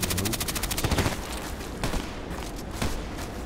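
Gunfire in the video game Contract Wars: a rapid burst of automatic shots at the start, then a few single shots and softer, more distant bursts.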